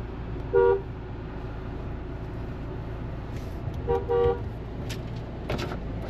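Car horn honking on a road during a drive: a short toot, then a second slightly longer honk a few seconds later, heard over steady vehicle rumble and traffic noise, fairly near.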